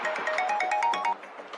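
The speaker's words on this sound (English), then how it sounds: "a couple of hours later he gets a phone call." A phone ringtone plays, a bright rising melodic tune of quick repeated notes, close and clear, stopping abruptly after about a second.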